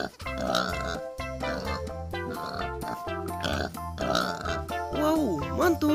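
Pink wild boar toy playing a pig grunting sound effect: repeated loud oinks and grunts alongside tinkly music, with a voice speaking over parts of it.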